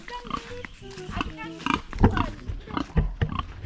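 Wild pig grunting in short rough bursts, mixed with people talking nearby.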